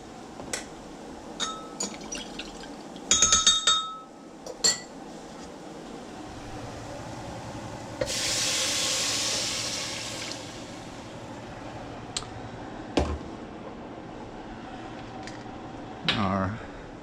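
Broth poured into a pan of shepherd's pie filling, a steady liquid rush lasting about two seconds amid light kitchen clatter and occasional clicks.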